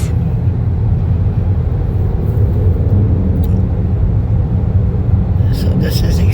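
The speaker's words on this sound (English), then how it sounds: "So this is the experience of riding through the tunnel" A car drives through the enclosed tunnel of a long bridge crossing, producing a steady, heavy low road rumble that fills the cabin, with a voice present under the drone.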